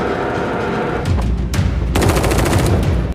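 Gunfire in a firefight, a dense loud rattle of rapid shots forming continuous automatic bursts with heavier booming reports layered in, close and unrelenting for the whole stretch.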